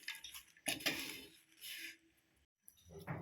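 A spoon scraping and clinking in a pan while chilimbikka pickle is stirred, short metallic scrapes in quick bursts, fairly faint and close.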